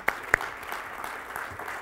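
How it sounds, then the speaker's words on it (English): An audience at a university executive lecture applauds, a dense, even wash of clapping with a few sharp individual claps standing out near the start. "So give my wife a round of applause."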